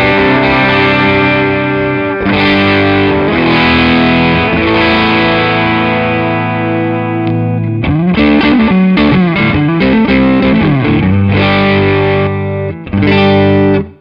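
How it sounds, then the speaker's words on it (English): Overdriven electric guitar through a Tech 21 Richie Kotzen RK5 SansAmp pedal into an amp, set for a Fender-style overdrive, plays sustained chords and then choppier phrases, loud and alone with no talking. "So it's kind of acting as a sort of a Fenderish overdrive."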